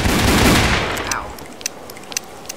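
Gunfire in a one-on-one video game duel: a loud burst of blasts in the first second or so, then a few sharp, quieter shots popping at intervals as the noise fades.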